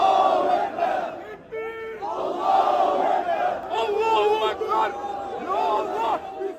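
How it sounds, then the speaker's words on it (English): Angry crowd of hundreds of protesters marching in Istanbul, a dense mass of shouting and chanting voices, loud and continuous throughout with rising yells. "hundreds of angry protesters marched on LeMan's offices in Istanbul"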